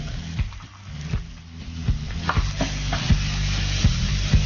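Cabbage rice with grated coconut being stirred in a hot pan, a steady frying sizzle with repeated scraping strokes of the spoon sounding close by, no talking.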